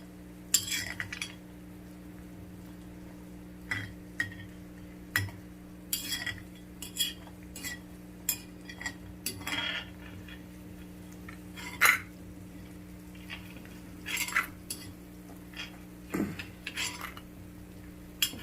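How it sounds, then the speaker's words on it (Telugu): Vadiyalu, lentil dumplings, frying in a pan while a utensil stirs them, sharp scattered metal scrapes and clinks over a low steady hum, intermittent and fairly quiet, with no voices. "జాగ్రత్తగా వేయించుకోవాలి"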